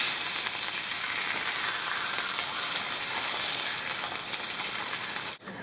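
Fish pan-fries in a hot skillet with a dense, even sizzle and crackle that holds steady at close range, then cuts off abruptly near the end, with no voices.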